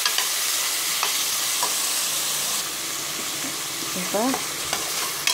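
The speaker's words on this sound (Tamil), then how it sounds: "இது ஒரு அஞ்சு நிமிஷம் வதங்கணும்." Tomatoes sautéing in a pan for Andhra chicken kulambu after ginger, garlic and roasted gram go in, a steady loud sizzle with scraping stirs throughout and a brief spoken word over it.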